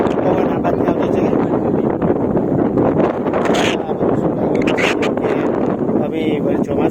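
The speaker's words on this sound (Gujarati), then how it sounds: "પવન એટલો મસ્ત, જોરદાર પવન આવેલો છે ને" Strong wind buffets the microphone on Banbha Dungar hill, a loud, steady roar with gusty rumbling throughout.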